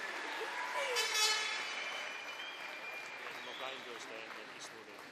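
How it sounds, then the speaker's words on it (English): Crowd applause at an indoor swimming pool for the South Ayrshire girls' relay team at a national open championship, a broad, sustained clapping wash under an announcer's voice and reverberant hall noise. "Let's have a massive round of applause for the girls from South Ayrshire."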